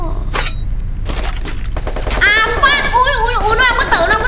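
Gunfire in the mobile battle game Free Fire, bursts of shots and thuds mixed with game effects, loud and close, with a voice speaking over the later part.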